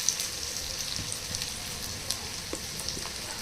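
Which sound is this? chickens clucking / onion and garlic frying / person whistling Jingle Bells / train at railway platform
onion and garlic frying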